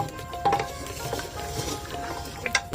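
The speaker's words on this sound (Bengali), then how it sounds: "নেড়ে চেড়ে দিচ্ছি ভিতরে" Potatoes are stirred into chicken curry inside a pressure cooker, with a steady scraping and clinking of a spoon against the pot. A few sharper knocks stand out near the start and the end.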